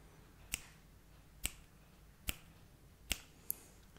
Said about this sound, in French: On va juste faire des petits claquements de doigts maintenant avec le bruit à droite ou à gauche.